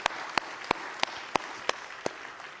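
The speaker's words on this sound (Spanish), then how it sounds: "Eso merece un fuerte aplauso para el Señor." Sparse, evenly spaced claps from a church congregation, about seven sharp hits at a steady rhythm, fairly faint and slightly distant, with no talking over them.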